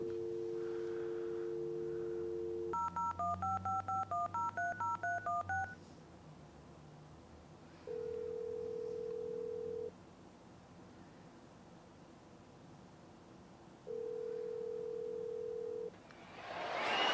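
Touch-tone phone dialing: a steady dial tone, then a quick run of about a dozen DTMF key beeps, followed by two long ringing tones separated by a pause, with a burst of noise at the end.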